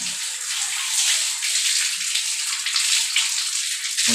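Water runs steadily from the spout of a leaking wall mixer tap, a continuous close hiss and splash with no talking.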